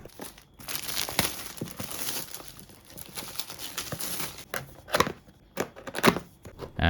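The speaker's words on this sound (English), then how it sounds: "let's quickly peel off the box cover." Packaging film is peeled off a Nu Republic Soundbar 20 box, making close, uneven crinkling and tearing with small crackles and rustles.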